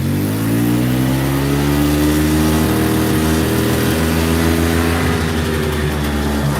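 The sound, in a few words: 1986 EZGO golf cart engine running, wheel spinning fast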